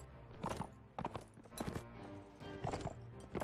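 Horse hooves from a mounted rider in the video game Mount&Blade Warband, a series of close, uneven clip-clop impacts with short bursts of noise, heard without speech.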